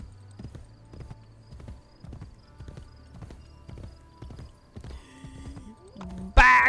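Horse hooves clip-clop at a steady walking rhythm in the video game Assassin's Creed Brotherhood, close and moderately loud, ending with a sudden loud burst of game sound.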